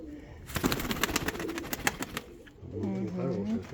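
Pigeons coo softly in the background, with a rapid flurry of flapping or fluttering early on and low cooing continuing afterward.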